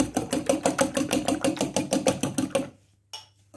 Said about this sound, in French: Je vais fouetter mes œufs un petit peu.